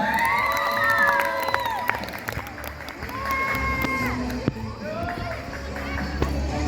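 An audience at a school ambassador pageant final cheers and claps, with shouts and whoops rising over scattered applause in a large hall, while voices call out across the crowd.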